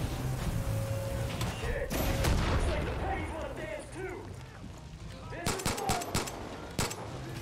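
Gunfire crackles in the Far Cry video game, with scattered shots and a quick burst of rapid fire amid disco music, mechanical clatter and talking voices.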